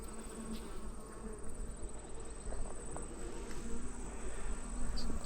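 Honeybees buzz in a steady, dense drone inside an open hive box, with a high constant whine over the low hum and no voices.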